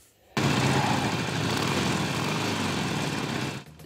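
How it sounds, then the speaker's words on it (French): Motorcycle engine rumbling on the streets of Paris, a loud steady drone that starts abruptly, holds at an even level for about three seconds and then cuts off. "Ce grondement de moteur"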